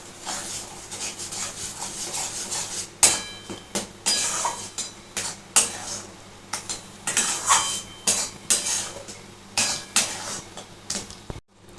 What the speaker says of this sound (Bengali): এটাকে কিন্তু আমি নারকোলটাকে কিন্তু অনবরত নাড়ছি